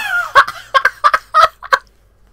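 Chickens in a video game cluck in a quick series of loud, close, squawky bursts, about six in under two seconds, each a sharp stuttering call, then silence.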